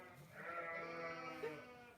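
A sheep bleats in a lamb pen, one sustained wavering call close by and fairly quiet, with no talking over it.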